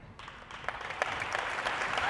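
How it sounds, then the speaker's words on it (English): Community pep rally crowd celebrating a boys basketball team's Final Four run, breaking into sustained applause that swells over two seconds, heard from a distance with some cheering mixed in. "Let's give them a round of applause."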